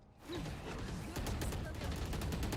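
Rapid gunfire from the video game Valorant, a dense continuous spray of shots lasting a few seconds, loud and steady with clicks and mechanical rattles layered over it.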